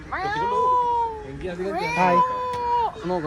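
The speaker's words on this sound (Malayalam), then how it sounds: "ഇത് പൂച്ചയല്ലേ?" Two long, loud meows close by, the second rising then holding, with a brief softer call between them.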